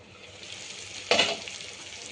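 Chicken samosa filling with turmeric frying in a pan on a medium flame: a low constant sizzle, then a sudden louder crackling burst partway through that quickly eases back down.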